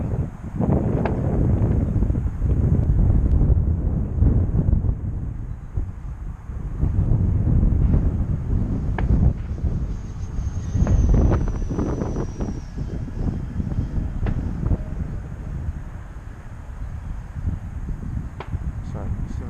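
Gusty wind buffets the microphone at an RC model airfield where a FlightLine P-38L Lightning is flown, a loud, steady low roar rising and falling in strength throughout.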